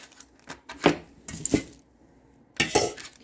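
A knife slicing the ends off an onion on a cutting board, a few sharp, close chopping knocks separated by short pauses, with no talking.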